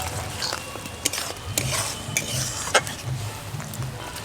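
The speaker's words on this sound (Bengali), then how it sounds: "এখন এর মধ্যে দিয়ে দেবো 1 বাটি পরিমাণ জল।" Water from a bowl goes into a pan of frying mushroom masala with chopped coriander, bringing a busy sizzle and stirring scrapes with a few sharp clinks of a utensil against the pan, close and fairly loud.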